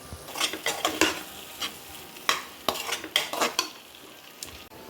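Masala with a little yogurt sautés for a mutton gravy, a soft steady sizzle broken by bursts of scraping and stirring in the pan, with no talking.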